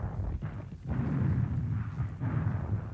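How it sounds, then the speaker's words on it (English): A WW2 German Panzerfaust or Panzerschreck anti-tank weapon fires in wartime footage, producing deep, heavy booming rumbles that rise and fall in low, muffled waves without speech. "This sequence is particularly good for illustrating to great effect the use of anti-tank weapons."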